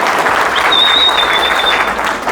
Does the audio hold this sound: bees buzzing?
no